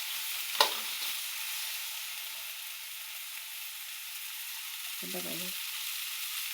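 Okra frying in oil in a pan, a steady sizzle throughout with one sharp clink of the stirring utensil early on and a brief spoken word near the end.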